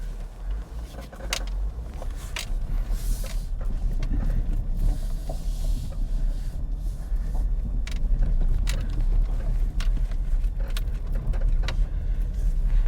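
Front-end suspension noise from a Jeep driven down the road, heard as a steady low rumble with scattered knocks and rattles running throughout, no talking.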